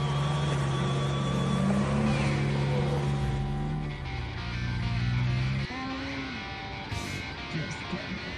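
A vehicle labours up a steep hill in a Margaret Lake setting, engine revving hard and tires spinning, a loud sustained drone that shifts pitch, with people talking and cheering it on over the engine.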